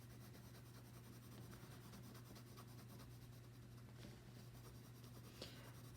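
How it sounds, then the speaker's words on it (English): Soft, steady scratching of colored pencil strokes on paper, a continuous gentle rasp over a low background hum, close and quiet. "I also love the sound that pencils make when you're coloring"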